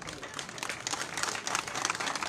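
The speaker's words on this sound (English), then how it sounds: "I want us to first give a clap of appreciation" Crowd at an outdoor political rally applauding, a dense continuous wash of many hands clapping at moderate distance with no clear pauses.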